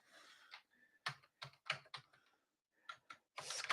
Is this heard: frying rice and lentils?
no